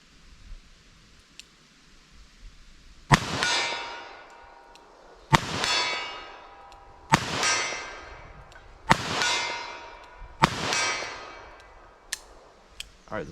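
A revolver fires .44 Special cowboy loads at steel targets outdoors: five sharp shots spaced a second or two apart, each followed by a ringing metallic clang that decays, with faint pings between them.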